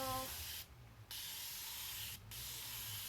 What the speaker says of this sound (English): I'm just going to spray this all down until my hair is pretty damp